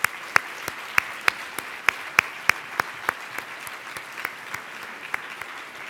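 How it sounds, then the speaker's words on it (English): An audience at a law school event claps, with sharp individual claps spaced irregularly and thinning out over several seconds, moderately quiet and without speech. "So let's give them a big round of applause."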